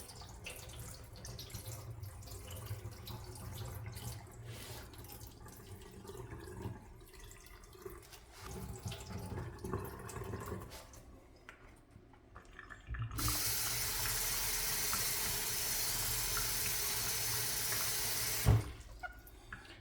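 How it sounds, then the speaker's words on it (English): Water swishes and sloshes as grains are rinsed in a pot, then a steady stream pours loudly from a tap for several seconds before abruptly stopping. "rinse it like 6 or 7 times or until the water runs clean"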